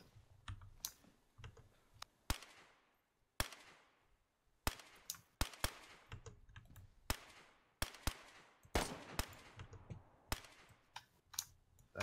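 Loud gunshots from a gun in the video game DayZ, a dozen or more sharp cracks fired in uneven bursts, each with a short decaying tail, and no talk over them.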